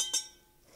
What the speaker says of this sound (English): As you can hear my glass clinking.